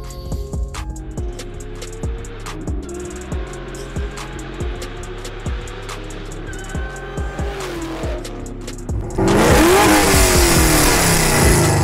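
A 1987 Camaro IROC-Z L1 engine revs repeatedly in short rising bursts with a throaty exhaust note, close and loud, ending in a sustained harsh roar of hard acceleration or wheelspin.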